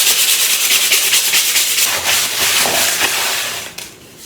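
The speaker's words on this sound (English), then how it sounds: "Sandpaper on the new bit." Sandpaper rubbed briskly along the roughed-off edge of a wooden strip for a Jacob's ladder craft, giving close, steady rasping strokes that fade out near the end.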